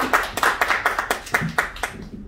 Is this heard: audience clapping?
yes